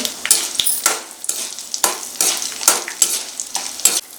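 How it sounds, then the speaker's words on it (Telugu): Chana dal, urad dal, cumin and dried red chillies fry in a pan, a loud crackling sizzle broken by repeated spoon strokes in an uneven rhythm, close up, with no voices. "ఇవన్నీ కూడా దోరగా ఫ్రై చేసుకోవాలి"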